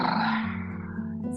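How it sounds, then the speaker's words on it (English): A relaxed lip flutter blown out to release tension during a stretch, a single close buzzing breath that fades off over about a second. "you begin to flutter your lips."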